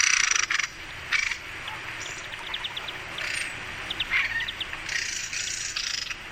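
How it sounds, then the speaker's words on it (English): Agitated, harsh rattling calls of a mistle thrush guarding a tree on a farm, repeated in several bursts over a constant outdoor background with small chirps between them, fairly close. "missel thrushes, if they get a little bit cross and possessive with a particular tree, they're saving it for the lady of their life, they will utter this sound"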